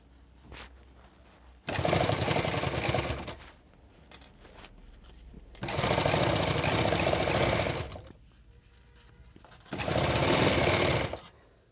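A sewing machine stitches a uniform collar in three long, steady runs of close mechanical whirring, separated by quiet pauses with faint handling sounds.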